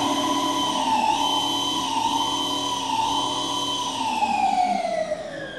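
An Ather 450X electric scooter gives off a loud, steady electronic whine with layered tonal harmonics that bend slightly in pitch, then glide downward near the end, with no voices over it.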